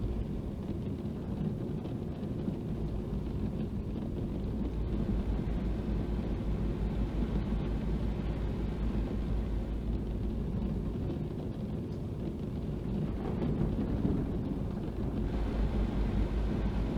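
Deep thunder rumbling during a thunderstorm in the Euro Truck Simulator 2 truck-driving game, a broad, steady low roar with no clear single crack, lasting throughout with no talk.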